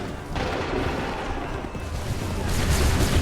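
A volley of musket fire from soldiers in Assassin's Creed III Remastered, a rumbling, booming mass of shots that swells toward the end against a noisy battlefield background.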